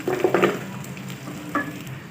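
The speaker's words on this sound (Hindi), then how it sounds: "अब मैं इसमें ऐड करूँगी गुड़ 150 ग्राम" Jaggery dropped into a pan of cooking raw mango, with a soft sizzle and a few quick stirring scrapes and plops up close, louder at the start and briefly again midway.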